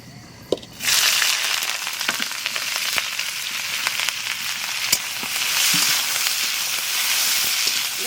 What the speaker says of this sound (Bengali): এইবার পেঁয়াজ দিয়ে দেবো